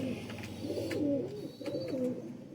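Low, soft cooing from a Kasuri breed pigeon hen with a round, very soft body, repeating in rolling phrases close by over a steady background hum.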